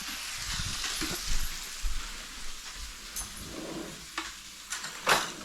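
French toast, bread soaked in custard, frying in a hot pan, giving a steady close sizzle with soft crackles and a few brief louder pops.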